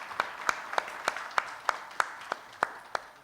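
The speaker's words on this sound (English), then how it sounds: "I would like the audience to please join me in giving a big round of applause to our speakers" An audience at an Islamic finance forum applauds the session's speakers: evenly spaced, crisp claps ring out about three times a second over a softer bed of clapping, steady throughout.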